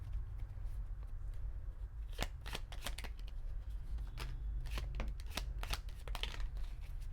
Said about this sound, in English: I did shuffle the cards